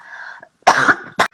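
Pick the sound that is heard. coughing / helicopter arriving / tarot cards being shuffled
coughing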